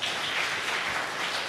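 Audience applause at a religious gathering, a dense and steady wash of clapping at moderate level with no clear individual claps.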